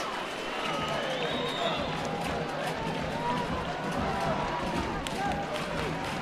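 Football crowd at Kingsmeadow during the Chelsea v Lyon women's Champions League semi-final second leg reacts to the France captain being booked, a dense, continuous roar and murmur filling the stadium, with voices mixed in.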